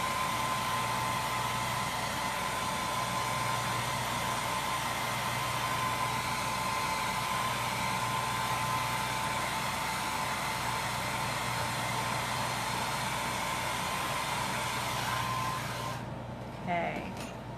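A hair dryer blows steadily at close range over a chalk transfer, a constant loud whooshing hum that runs for the whole stretch before switching off near the end.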